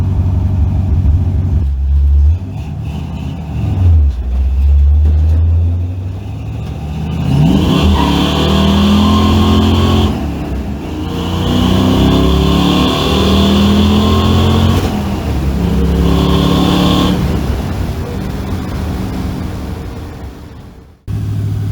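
A car engine revs hard and repeatedly, rising and falling in pitch, with a steady loud rumble and tire noise; the engine settles toward an idle of about 1500 rpm near the end.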